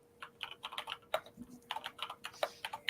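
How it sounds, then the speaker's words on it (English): Fast, irregular clacking of keys on a loud mechanical computer keyboard, close and crisp, in uneven bursts with brief pauses. "your keyboard is so loud"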